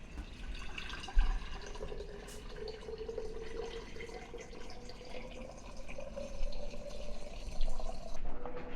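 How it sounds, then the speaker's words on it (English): Filtered cold brew coffee pouring steadily into a jar, the gurgling pitch slowly rising as it fills, close and continuous for several seconds. "we're going to go ahead and get our coffee poured back in there"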